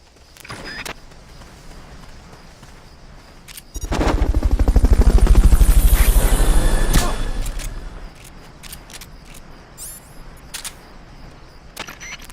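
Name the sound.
Fulton recovery helicopter in video game Metal Gear Solid: Peace Walker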